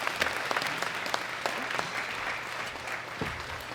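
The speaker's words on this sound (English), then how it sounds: "Big round of applause for all of our winners" Audience applause for the winners at the 2018 World Classic Powerlifting Championships, a steady wash of crowd clapping from a hall, fairly distant and even with a few sharper individual claps standing out.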